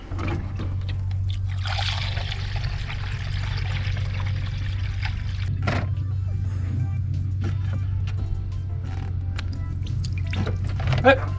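Coolant water pours and trickles steadily out of the system while a Td5 engine's cooling system is bled, a continuous splashing flow over a low engine hum, with a few clicks and knocks from handling.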